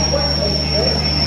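Steady rumble and hum inside the Howrah–Jabalpur Shaktipunj Express passenger train while it runs, loud and continuous with a constant high whine above the rolling noise.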